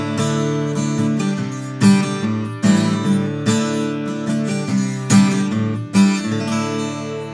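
Acoustic guitar recorded at home with a Sennheiser Profile USB microphone, without EQ or compression, strummed chords with clear repeated attacks ringing close and full.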